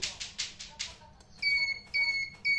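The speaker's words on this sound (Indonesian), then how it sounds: "setelah level 7 maka alarm akan aktif" Water level sensor alarm triggered at level 7, giving repeated high-pitched electronic beeps. Several short bursts come first, then longer sustained tones, fairly faint and close.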